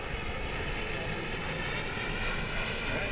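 A FlyFans J-20B RC model jet in flight with the throttle eased back to about three-quarters, giving a steady, sustained turbine whine with a high tonal edge over broad airy rush, heard from a moderate distance.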